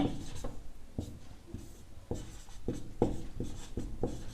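A pen scratches across paper while a maths solution is written out, making a close series of short, quick strokes and taps in an irregular rhythm, with no talking.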